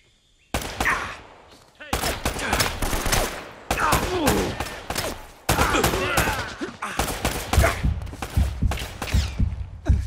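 Rapid bursts of gunfire from the video game Uncharted crack loudly and repeatedly, with sustained automatic volleys and scattered single shots, while a voice shouts briefly between the firing.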